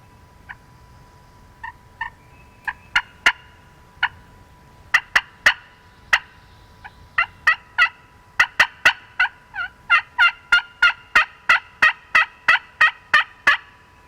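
Repeated wild turkey gobbles ring out over a quiet spring woodland in Maryland, sparse at first then coming in a steady rapid series, fairly close and clear.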